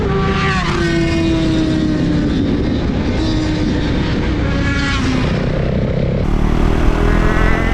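Superbikes race past on a road in the Chitwan area of Nepal. A loud, continuous engine roar sweeps down in pitch as the bikes pass close by, and the throttle surges again near the end.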